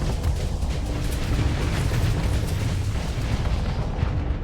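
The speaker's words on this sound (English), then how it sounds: "Here comes the new wave of antimatter bombs." Antimatter bombs detonating in the space combat game Starsector, a continuous dense rumble of overlapping booms and bursts that stays loud and steady throughout, with no voices.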